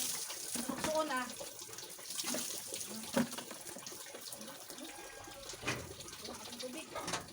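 A tap runs outdoors, water splashing into a container with a faint, uneven trickle and occasional louder splashes, while people chat quietly nearby.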